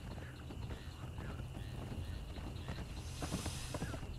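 Rhythmic hoofbeats of a horse clip-clopping steadily, mixed with game background noise and a brief hiss of wind toward the end, in the video game Conan Exiles.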